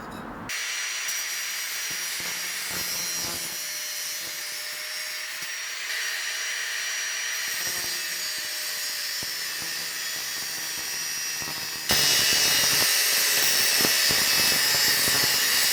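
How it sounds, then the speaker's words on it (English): Angle grinder cutting through metal clamped in a vise, a steady loud high-pitched whine that runs continuously and grows harsher and louder toward the end as the disc bites harder. "I'm going to clamp it in the vise and cut it with my angle grinder."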